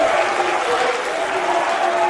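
Wrestling crowd at a West Coast Pro Wrestling show cheering and clapping in a steady loud roar, with an announcer's voice over it.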